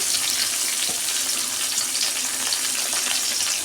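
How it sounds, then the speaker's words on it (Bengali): Onions fry in a pan with cinnamon, cardamom and cloves for a prawn malai curry, a loud dense sizzle that holds steady from start to finish with no talking. "পেঁয়াজ দিয়ে দিচ্ছি।"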